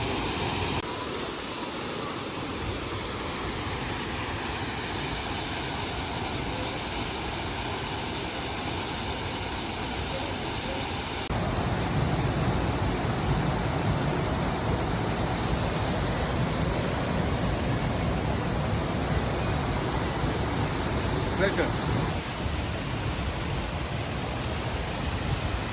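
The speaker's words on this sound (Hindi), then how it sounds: "यह है लपास वाटरफॉल।" Lapas waterfall in Barot valley, Himachal Pradesh, reached by rough dirt trails: a steady, loud, broadband rush of falling water that fills the whole stretch without pause, growing slightly heavier partway through, with no voices over it.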